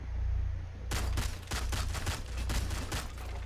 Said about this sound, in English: I cannot control that shotgun.